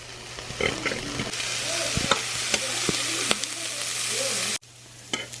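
Peppers and seasoning sautéing in a pan for keto Parmesan eggs, a continuous sizzle with scraping stirs and a few sharp utensil knocks, briefly dropping quieter near the end.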